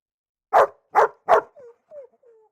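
Three loud, close dog barks in quick succession, followed by a few soft, high whimpers trailing off.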